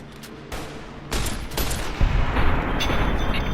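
Automatic weapon fire in a video game arrives in quick overlapping bursts that grow louder and denser after a second, sustained rattling volleys with no talking.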